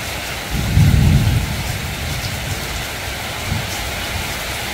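Heavy rain pours steadily outdoors on a hot, humid night in a garden, a dense constant hiss, with a deep rumble of thunder swelling early and fading under the downpour.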